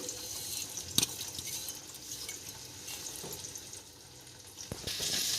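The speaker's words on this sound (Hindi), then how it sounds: "भुनी हुई राई में अब ये हम पिसा हुआ मिश्रण डालेंगे।" A ground spice mixture drops into roasted mustard seeds for a cauliflower, carrot and radish pickle: a soft steady sizzle with a few sharp clatters and a brief surge near the end, close and moderate.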